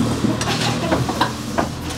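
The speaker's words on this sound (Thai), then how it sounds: "โอ้เดือดแล้วครับ" Oil bubbles and seethes in a pot at a street food stall in Myanmar, a steady close hiss with soft irregular pops and clinks.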